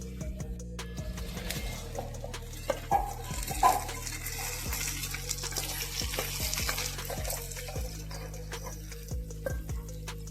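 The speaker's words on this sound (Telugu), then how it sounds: "మంచిగా లో ఫ్లేమ్లో ఇవి ఫ్రై అయిన తర్వాత ఇలా దూరంగా వేయించుకోవాలి" Ingredients for a brinjal curry fry on low flame in a pan, with a soft sizzle under repeated close scrapes and clicks of a spoon stirring at irregular intervals, and no talking.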